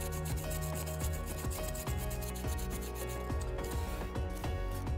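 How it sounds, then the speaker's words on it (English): A ZF transmission ID plate is rubbed by hand to bring up its stamped numbers, giving a steady, close scratchy rubbing in quick repeated strokes with no speech. "give it a little bit of a rub just to reveal the numbers"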